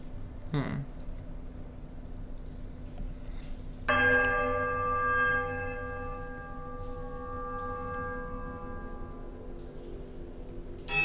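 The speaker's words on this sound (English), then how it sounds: "a sudden, dissonant toll sounds from the bells, so loud and piercing that you are compelled to cover your ears" A sudden dissonant toll of bells from the Pillars of Eternity game rings out loud and piercing partway through, its long ringing tones fading slowly over a low ambient drone.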